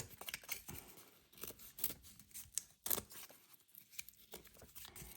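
Scissors snipping through cardboard while cutting out a shape for a handmade Spinosaurus figure: quiet, close, irregular crunchy cuts and crinkles, no talking.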